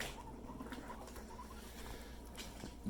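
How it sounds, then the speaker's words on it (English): A pet guinea pig rumbles, a faint, low, continuous purring vibration close by, with soft rustling and no talk. "Rudy Booty Boy, stop your rumbling."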